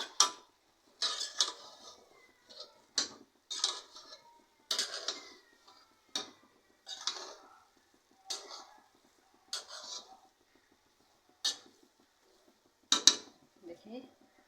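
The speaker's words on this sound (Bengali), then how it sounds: "নেড়ে চেড়ে দেবো।" Pulao rice being stirred in a pot, giving a series of separate scraping and clinking strokes of utensil against metal, close and fairly quiet, spaced about a second apart.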